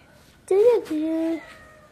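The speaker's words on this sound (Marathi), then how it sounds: "हे बघा इथे छोटीशी मांजर बसले. म्याऊ काय करते." A small cat meows twice in quick succession, the first call rising and falling, the second flatter and drawn out, fairly close and clear.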